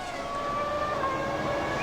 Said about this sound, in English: That noise is the rev limiter as he goes up pit road to keep him at 70 miles an hour